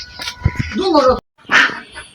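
A duck being caught in a village courtyard gives a few loud, close nasal quacks, two bursts separated by a brief silence.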